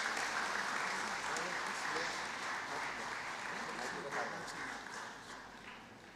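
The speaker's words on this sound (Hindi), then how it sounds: "तालियों के साथ हम उनका यहाँ पर स्वागत करते हैं" Steady applause from a seminar audience welcoming a panel speaker, a dense, continuous clapping wash that holds evenly for several seconds.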